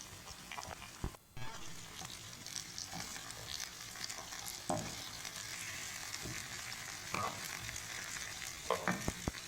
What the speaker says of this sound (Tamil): இது கூடவே ஒரு தக்காளி ஆட் பண்ணிக்கலாம் தக்காளி ஆட் பண்ணிவிட்டு கொஞ்சமாக சால்ட்டு போட்டுக்கலாம்